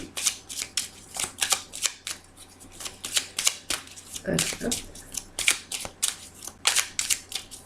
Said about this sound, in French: je vais rebattre mes jeux de cartes, puisque je vais me servir des deux